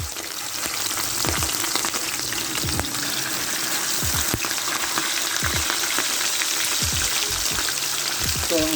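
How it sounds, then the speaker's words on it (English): Escovitch fish frying in hot oil, a steady, dense sizzle with crackling and spitting that fills the whole stretch, with occasional soft low knocks beneath it. "now we're just going to add the fish, right? And we're going to fry until golden brown"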